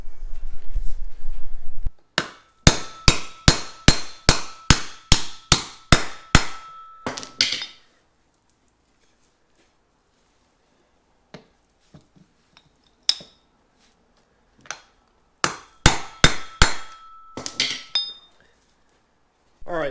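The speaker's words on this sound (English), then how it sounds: "you hit it down, pull the cap off, beat it back in" Metal hammer blows drive U-joint caps out of a first-generation Toyota Tacoma driveshaft, a rapid series of about a dozen sharp ringing strikes, a pause with a few faint taps, then another quick burst of hits.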